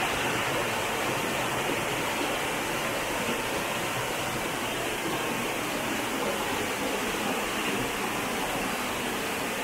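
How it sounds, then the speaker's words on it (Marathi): A waterfall pours down at the roots of an ancient tree in a Konkan village near Devgad, Sindhudurg, a steady, dense rush of falling water that holds constant and close for the whole stretch, with no voices. "आपण धबधबा बघतोय सुंदर असा."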